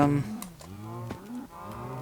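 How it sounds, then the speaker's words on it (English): A cow in a video game lets out a few short tonal moos in a row, close and clear, with no voices over them. "All I see is cow."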